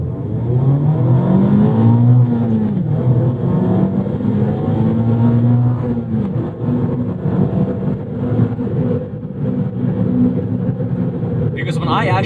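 A Mazda Miata ND3 accelerates hard through the gears, its engine note climbing and dropping with each shift, loud and close inside the cabin while someone talks over it.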